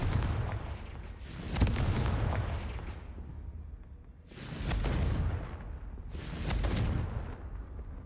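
Three heavy, booming fire-spell explosions from Confringo in Hogwarts Legacy, each a loud rumbling burst that fades before the next, with no voices.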